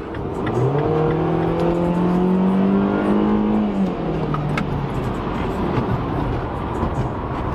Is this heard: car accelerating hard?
yes